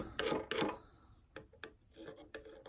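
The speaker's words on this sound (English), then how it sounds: "This is a carbide scraper, just to get the paint off the top." A carbide scraper rasps paint off the top of a welder in two strong, close strokes, followed by several shorter, lighter scrapes and taps.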